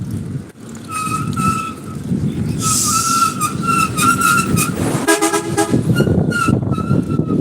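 A truck loaded with sand passes nearby with loud traffic rumble, sounding its horn in repeated tonal blasts, including a sustained honk midway and a sharper burst of horn near the end.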